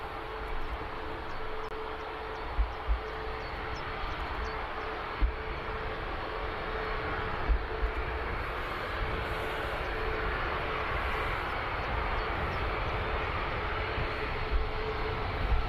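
A Boeing 787 Dreamliner departing Birmingham Airport, its engines a steady broad distant roar with an even drone, sustained throughout without talk.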